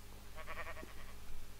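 A sheep in Minecraft gives one short, quiet bleat over a steady low background hum.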